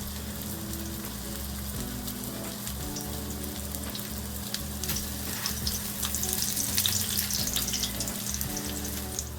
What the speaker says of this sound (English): we are going to use some olive oil to cook them. Just place it in the pot